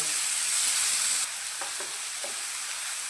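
Finely chopped onions frying in a pan over a low gas flame, a steady broadband sizzle that drops slightly in level partway through, with a few soft stirring scrapes near the end.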